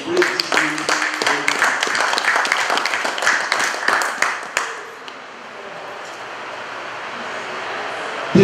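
An audience at the Nigerian Immigration Service's enhanced e-passport launch claps in a brisk burst of loud applause that dies away after a few seconds into quiet hall ambience.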